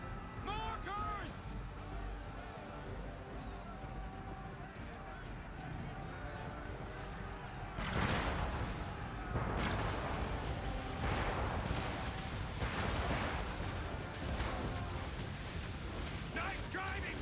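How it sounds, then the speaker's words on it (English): Mortar fire in a video game, heard as a run of heavy, rumbling explosion bursts that start partway through and keep landing close together over steady game noise. "Mortars!"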